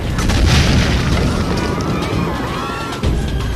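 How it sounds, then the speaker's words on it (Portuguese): Heavy cannon fire bombarding the walls of Constantinople, heard as a loud, continuous booming rumble with crashing debris. A sharp renewed blast lands near the end. "Se os muros de Constantinopla caírem com o bombardeamento dos turcos"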